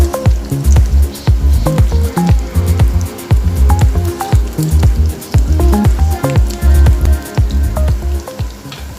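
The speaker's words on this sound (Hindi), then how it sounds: "हमारे कबाब बहुत अच्छे फ्राई हो रहे हैं।" Aloo tikki kebabs frying in a pan, a loud, busy crackle of popping and spattering oil with steady irregular bursts throughout, close and without talk.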